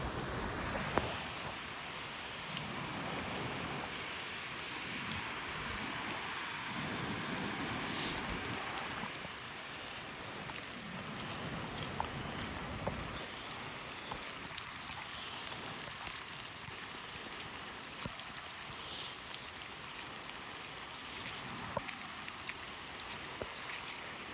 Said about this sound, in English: We really needed this rain too.